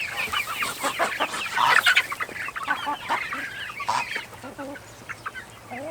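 Neighboring farm chickens cluck and squawk in a busy, overlapping chorus, close and lively throughout, with steady outdoor background noise underneath.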